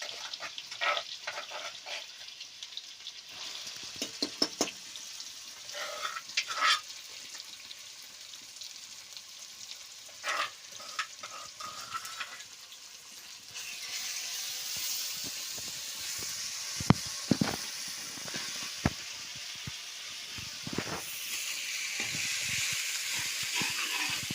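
Ginger sizzles in a hot pan, first in scattered hissing bursts with clinks of stirring, then swelling into a louder, steadier fry with sharp knocks of a utensil against the pan.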